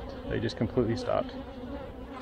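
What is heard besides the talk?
honey bees in hive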